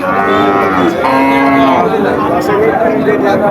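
Cattle at a busy cow market lowing loudly and close, long drawn moos overlapping with murmuring crowd chatter behind.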